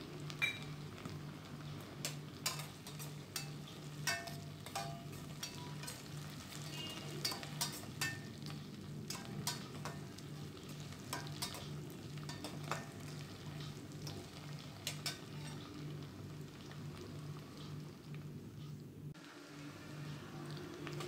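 Onion, ginger-garlic paste and green chili sauté in a pan, a steady close sizzle with frequent sharp crackles and spatter ticks running throughout, with a short dip near the end.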